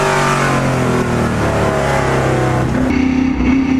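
Trans-Am race cars bunched together roar down the front straightaway at Circuit of the Americas in wet conditions, a loud, sustained engine drone with overlapping revving pitches throughout.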